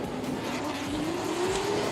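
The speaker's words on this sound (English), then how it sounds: "Listen to those cars roar away as they struggle for grip." Drift race cars at a competition battle, a JZ-engined car against a V8, roar away from the line, their engines climbing in pitch as they struggle for grip under a broad noisy wash.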